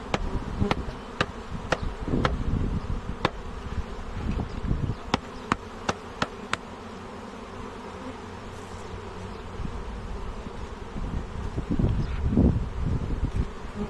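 Honeybees buzz around a hive in a steady, close drone, with occasional sharp clicks and rustling handling noises, and no voices.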